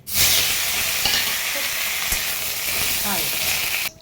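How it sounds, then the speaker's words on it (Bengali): Paneer fries lightly in a pan with a loud, steady sizzle and hiss that fills the scene close up, then cuts off abruptly near the end. "পনিরটাকে হালকা ভেজে নেব"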